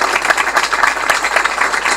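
An audience applauds LALCEC volunteers at a public event, producing a dense, steady wash of many hands clapping together that stays loud and even throughout.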